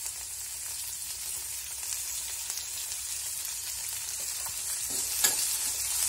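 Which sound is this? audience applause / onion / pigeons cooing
onion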